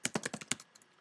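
Quick burst of computer keyboard typing while entering an HTML heading for a web page: about six crisp keystrokes in fast succession, close and clear, then a few lighter taps trailing off, with no talking.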